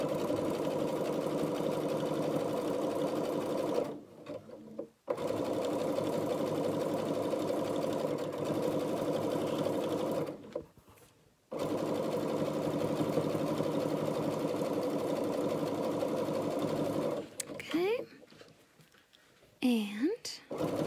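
A sewing machine stitches a fabric bread proofing bowl in long, steady runs of whirring hum, stopping briefly twice before a final pause; it sounds close and moderately loud, with a few faint voice sounds near the end.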